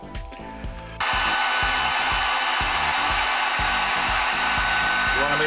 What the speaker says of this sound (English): I've just got this Harbor Freight heat gun, but it seems to do the job.